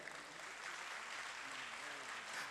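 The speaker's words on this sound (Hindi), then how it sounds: "एक बार पूरा सदन तालियों से आदेशित करें।" Faint, distant applause from the audience at a Hindi poetry gathering, a continuous wash of clapping with murmured voices mixed in.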